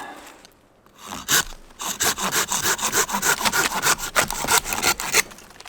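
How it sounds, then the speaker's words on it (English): A Silky hand saw cutting through hard, dead maple wood at a winter camp, steady rhythmic back-and-forth rasping strokes, close and loud, after a brief quiet start. "Love my silky saws, I tell you what."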